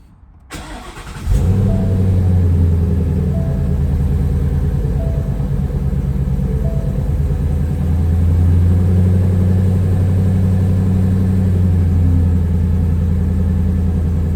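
A car engine cranks and catches after a brief silence, then settles into a steady, loud, high idle rumble that holds throughout, with no talking.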